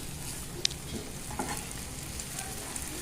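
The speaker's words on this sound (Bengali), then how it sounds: "আলুর দমটা মশলা দিয়ে কষাচ্ছি" Potatoes cook with spices for a Bengali alu dum, giving a faint, steady sizzle in a pan with a few soft scraping stirs and one small clink.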